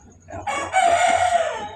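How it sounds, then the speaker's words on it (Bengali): A rooster crows once near a rural homestead with a chicken house, a loud drawn-out call that swells and holds for over a second against quiet background. "মোরগ ডাকতেছে ওখানে"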